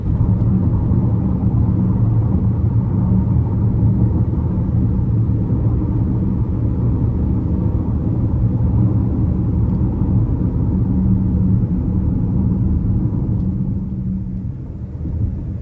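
Steady low road rumble inside a 2026 GMC Terrain Denali AWD riding on 19-inch wheels, a continuous loud drone that stays even throughout and eases slightly near the end.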